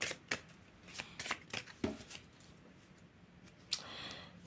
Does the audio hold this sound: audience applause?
no